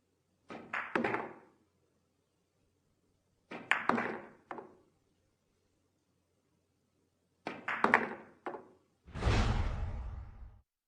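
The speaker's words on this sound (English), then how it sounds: "The shot is performed by striking the cue ball just below center." Snooker stun shots on a table, the cue striking the cue ball just below centre: three separate clusters of sharp clicks and knocks, then a longer rolling rush at the end, near and clear with no talk.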